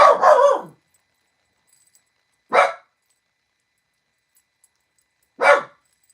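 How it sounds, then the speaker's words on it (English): A dog barks three times, spaced a couple of seconds apart with silence in between, close and clear. "Chubby, stop barking."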